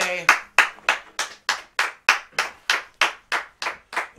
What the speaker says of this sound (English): Yeah, that's clapping, man.